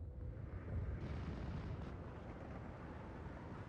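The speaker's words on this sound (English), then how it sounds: "That bombing strike missed completely" A bombing strike in the war game Steel Division 2 sets off a deep, continuous rumble of explosions that stays loud and dense throughout, with no voices over it.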